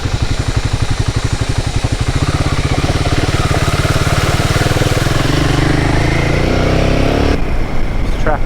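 Royal Enfield Himalayan 450 adventure motorcycle ridden along a quiet dirt track, its single-cylinder engine thumping loudly and steadily close to the microphone, with a brief change in pitch near the end.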